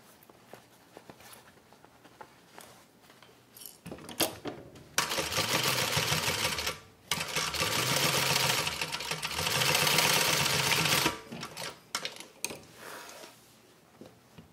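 Sewing machine stitching a seam on a three-zipper fabric pouch, a loud mechanical whir in two main runs of several seconds with brief pauses, framed by quiet handling noises before and after.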